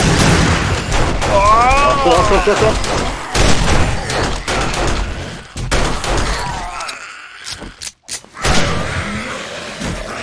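Bursts of rapid gunfire in the game 7 Days to Die, with thuds and mechanical clatter, loud and close, interspersed with brief pauses and a synthetic warbling tone; a voice talks over parts.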